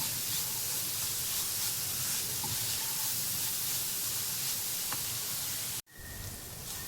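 An electric mixer grinding cashews and almonds into a dry mix, a loud steady whirring hiss that cuts off abruptly near the end before a quieter tail.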